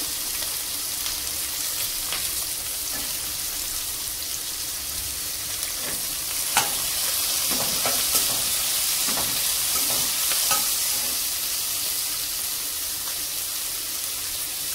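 Capsicum frying in a pan for vegetable rice, a steady loud sizzle throughout with scattered crackles and stirring clinks, no voices.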